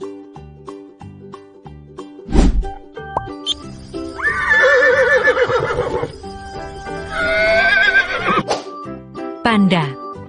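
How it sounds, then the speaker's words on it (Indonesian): Horse neighing in a long, loud whinny that rises and trembles, then a second whinny follows, both near and clear, with a few brief sounds between them. "Kuda."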